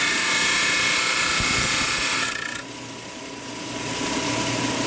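A rock trim saw runs with a loud, steady, close mechanical roar and whine; partway through, the sound drops and settles into a lower, softer hum as the blade keeps spinning.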